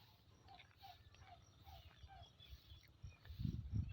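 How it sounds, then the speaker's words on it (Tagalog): Faint, short bird calls repeat at a steady pace in the distance over farm fields with low outdoor rumble, then a louder rustle or thump near the end. "Ang daming ibon dun bandaw oh."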